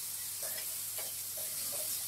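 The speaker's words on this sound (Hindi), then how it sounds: "इसको भी भूनना है" Spices roast in a pan for UP-style chana nimona, making a soft, low sizzle with several scraping stir strokes spaced through the moment.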